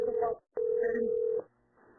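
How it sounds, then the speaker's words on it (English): Steady telephone tones: a short tone, a brief silent gap, then a longer sustained tone of nearly a second, followed by a low, quiet hum. No one speaks. "We get like a phone call in the video"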